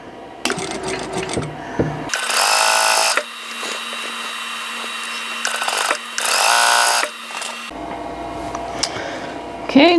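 A sewing machine with a 1/4 inch foot stitches a quilt square along a diagonal seam in two close, loud whirring bursts. Quieter handling noises and clicks fill the gaps between them, and no one speaks.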